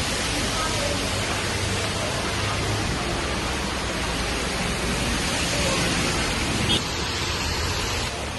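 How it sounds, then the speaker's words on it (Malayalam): Heavy rain pours down in a dense, constant roar that stays loud and unbroken from start to finish. "നല്ല മഴ."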